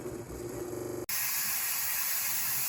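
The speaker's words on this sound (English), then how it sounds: "The steam, even though we call it airtight when we flip it, the steam doesn't stop." Steam hisses steadily from a NESCO electric canner processing meatballs; after a rhythmic mechanical chatter, the sound cuts briefly and returns as a louder, continuous bright hiss, heard close.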